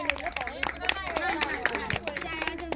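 Scattered hand claps at a Marathi kankan bashing ceremony come through in sharp bursts beneath ongoing conversation among the gathered people.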